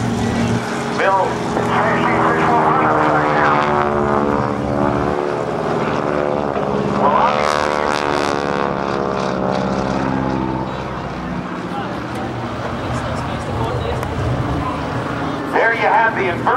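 A Texan propeller airplane making an inverted pass at the 2008 NAS Oceana Airshow, its engine droning loud and close with a rising then falling pitch sweep as it passes, while a commentator talks over it.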